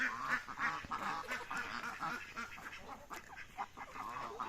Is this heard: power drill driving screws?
no